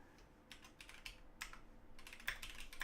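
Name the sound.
typing on a computer keyboard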